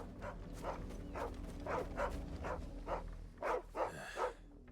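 A dog in the video game Final Fantasy XVI gives a run of repeated barks and yips at a steady rhythm over a low background hum, moderately close, with no talk over it.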